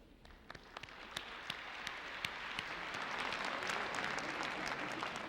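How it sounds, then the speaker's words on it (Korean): At a televised college musicians' song festival, an audience welcomes the judging panel, starting with scattered individual claps that build into steady, fairly distant applause filling the hall. "여러분 박수로 환영해 주시기 바랍니다"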